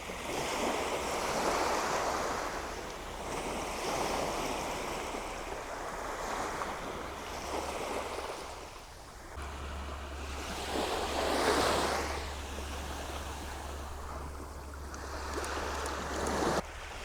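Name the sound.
tiny ocean waves coming in on beach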